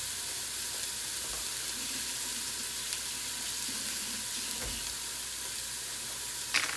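Onions for a cheesy lasagna sizzle and crackle in a hot pan, a loud, steady frying hiss with an occasional stir or scrape and no voices.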